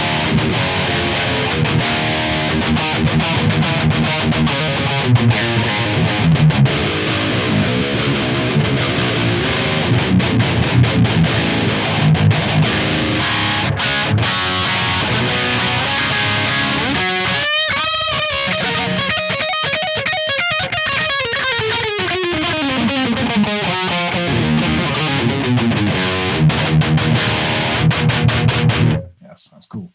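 Heavily distorted high-gain electric guitar riffing through a Marshall amp simulation in the Audio Assault RVXX plugin, loud and continuous for nearly thirty seconds, with chugging palm-muted passages and a sliding lead phrase near the end.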